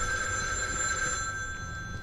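An old telephone's bell rings continuously in The Evil Within 2, a bright metallic trill held steady over a low rumbling background.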